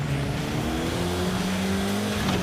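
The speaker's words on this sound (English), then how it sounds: "Let's see if I can power shift this thing." A car engine revs hard through a power shift, the pitch sweeping up, dipping and climbing again in a loud, close, continuous roar with a hint of tire noise.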